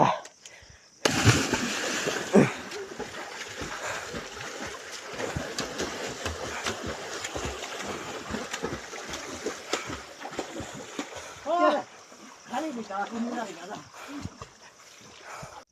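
People jump into a river one after another for a swim, heavy splashes and churning water mixed with excited voices talking and shouting close by.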